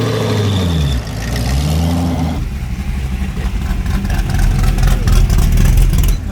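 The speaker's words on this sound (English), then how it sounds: "just race trucks on the street." Race trucks and buggies drive along a lawless street in Baja during the Baja 1000, their engines revving and rumbling steadily nearby, rising and growing louder toward the end with no talk over them.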